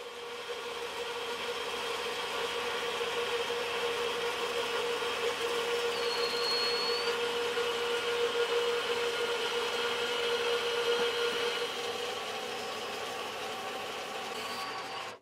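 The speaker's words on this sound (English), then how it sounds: "To cut this steel, I'm going to be using my metal cutting bandsaw here." A metal cutting bandsaw working through 5-inch steel flat bar, a steady continuous whirring drone with a high blade whine, close and unchanging throughout.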